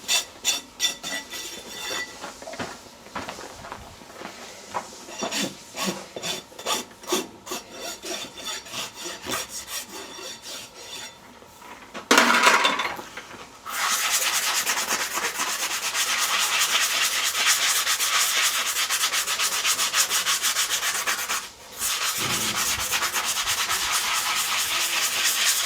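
A farrier rasps and dresses the hoof of a Peruvian Paso horse, first in short uneven strokes, then a long steady run of close, loud grating with a brief pause near the end.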